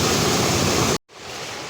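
Loud, steady roar of rushing water at the Talasi Abbi waterfalls, a dense continuous wash that drops out abruptly for a moment and then returns slightly softer.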